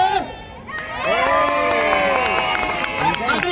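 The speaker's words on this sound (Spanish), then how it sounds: "Aplauso, grito, silbido, para que empecemos el espectáculo con mucha energía." Live audience at a Madrid nightlife breakdance show erupting in loud cheers, shouts and whistles right on cue, a brief lull and then sustained crowd noise swelling and holding steady throughout.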